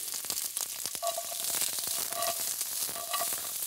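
Shrimp and bean sprouts with peppers frying in a pan for Chow Mein, a steady close crackling sizzle with occasional scraping stirs and no talk.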